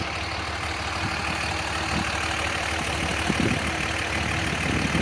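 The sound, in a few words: Dodge truck engine running in the background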